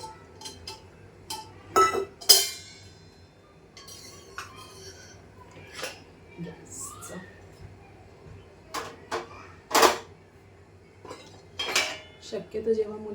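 Steel pots, pans and cutlery clattering and clinking in a kitchen sink as they are washed and stacked, with sharp irregular knocks and chinks, some loud, spread across a quiet background.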